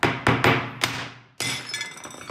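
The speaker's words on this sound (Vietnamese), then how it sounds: "Bây giờ mình sẽ đập bát đĩa" Ceramic bowls and plates being smashed: several sharp cracking impacts in quick succession, then a louder shattering crash with ringing fragments, close and clear.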